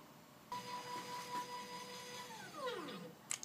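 A DIY Arduino CNC router axis steps upward under GRBL control, whining as a steady stepper tone that holds, then sweeps downward as it decelerates, ending in a couple of faint clicks in a quiet room.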